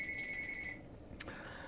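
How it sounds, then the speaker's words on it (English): Phone ringing during a live talk show, a faint electronic ring tone holding for under a second, then a brief chirp after a pause, heard alone in a quiet room. "Yeah, that's my phone ringing, so I don't know who it is."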